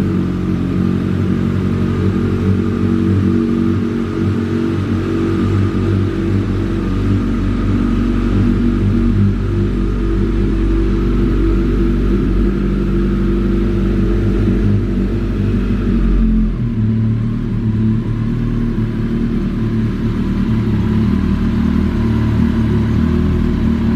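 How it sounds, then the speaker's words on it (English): A 2012 Kawasaki Ninja ZX14 motorcycle engine running steadily at idle, a loud, close, continuous rumble with a slight shift in tone partway through and no talking. "let's go ahead and fire up and listen to how she sounds."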